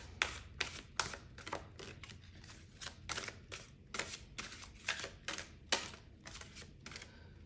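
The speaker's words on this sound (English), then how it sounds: "Oh my goodness, it's very difficult to shuffle." A deck of playing cards being shuffled by hand, a string of sharp riffling bursts repeating in an uneven rhythm, close and fairly quiet, with no talk over it.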